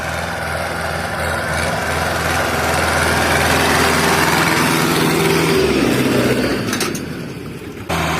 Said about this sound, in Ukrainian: І добре, що є такі тракторець у нас.